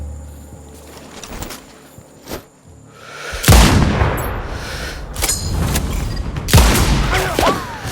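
Gunfire in the video game Sniper Ghost Warrior Contracts 2: a few scattered distant shots, then loud close bursts of rifle fire with echoing booms over a background of chirping insects.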